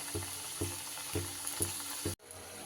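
Flour and green pea snacks fry in hot oil, giving a steady, close sizzle with a soft stirring clunk every half second or so, then a brief cut before the sizzle carries on, with no voices.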